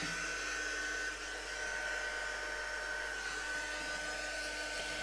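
Heat gun blasting air to dry paint on a mixed media MDF moth plaque with moulded embellishments, a steady loud broadband whoosh running without a break, with no talk.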